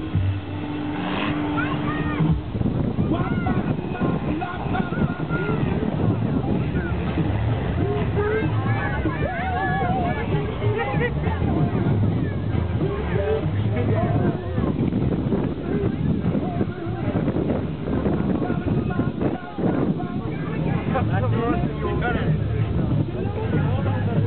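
Off-road vehicle engine revving hard at a 2011 Smirnenski off-road event, a loud, continuous, rough roar close by, with crowd babble and voices mixed in.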